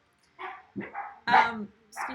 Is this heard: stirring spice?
no